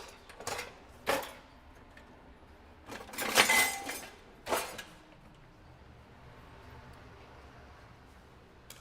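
Metal kitchen utensils clatter and clink in a few short bursts while a spatula is pulled from a drawer, the loudest jangle in the middle, then quiet room tone.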